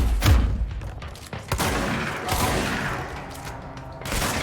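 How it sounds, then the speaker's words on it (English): Shotgun fire in the video game Control, several heavy booming blasts spaced unevenly, each with a sharp crack and rolling tail, loud and close, mixed with thuds and clattering debris. "Shotgun."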